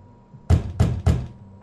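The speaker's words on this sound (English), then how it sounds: "Let's knock on the door." Three firm, evenly spaced knocks land on a door in The Wolf Among Us video game, heavy and close with dull thuds, set against a faint low background hum.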